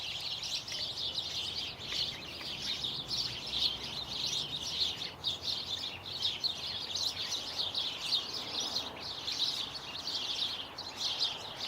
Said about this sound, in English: All these birds.